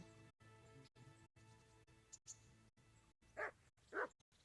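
Two sharp dog barks from Mart, the butcher's dog in the video game Kingdom Come: Deliverance, ring out near the end over a steady low game ambience.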